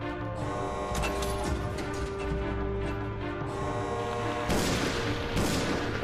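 Gunfire in the Resident Evil Zero water treatment plant, a steady barrage of rapid shots over a humming, layered game soundtrack, with a louder burst near the end.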